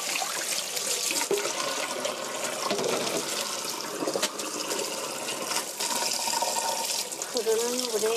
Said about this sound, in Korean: 흐르는 물에 깨끗이 씻어주시고요